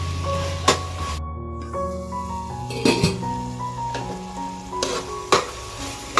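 Onion and tomato masala sizzles and fries in oil for a mushroom donne biryani, a steady close crackle with occasional clinks and stirring scrapes of a utensil against the pan, no talking.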